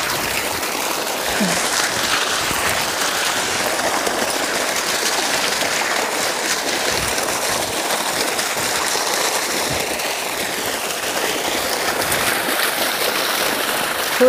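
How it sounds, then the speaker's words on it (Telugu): Monsoon water rushes into a mango orchard as a loud, unbroken churning wash that holds steady throughout. "వావ్ నీళ్ళు చూడండి ఎట్లా వస్తున్నాయి"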